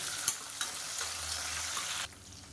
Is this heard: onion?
yes